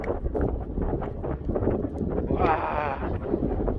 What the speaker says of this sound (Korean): 바람 소리 들리세요?